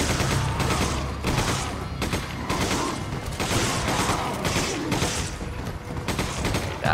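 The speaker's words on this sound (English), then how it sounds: "The machine gun ammo just helped me mow them all down." Machine gun fire in the video game Resident Evil 5, rapid repeated bursts of gunfire pounding continuously with short gaps, loud and dense throughout.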